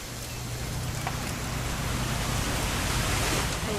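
Steady rain falls in the game What Remains of Edith Finch with an even hiss, moderately loud and continuous, with a faint low hum underneath.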